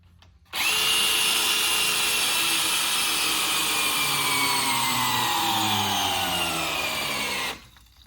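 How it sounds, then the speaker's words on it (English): A DeWalt power drill whirs steadily for about seven seconds, spinning a race car's mechanical fuel pump to prime it, its high motor whine slowly dropping in pitch before cutting off. "the DeWalt is used to spin his mechanical fuel pump to prime the system"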